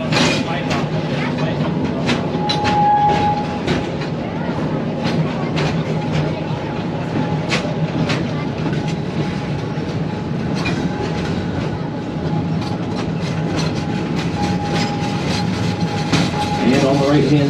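Serengeti Express amusement park train at Busch Gardens Tampa rolling along with steady rhythmic clickety-clack of wheels and rumbling cars, close and loud, with an announcer's voice talking over it.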